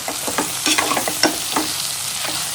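Salt, garam masala and chilli powder are stirred into a dish frying in a pan, with brisk close scraping strokes over a soft sizzle.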